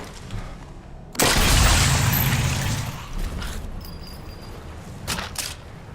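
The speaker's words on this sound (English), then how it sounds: "I did do a big explosion" A big explosion bursts in the Sniper Elite 4 video game, a sudden loud boom that rumbles and decays over a few seconds, followed by fainter distant pops and debris.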